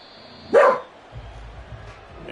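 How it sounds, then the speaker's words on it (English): A dog gives one loud, close bark, followed by low rumbling background sound from a Madden 24 football game. "You hear my dog?"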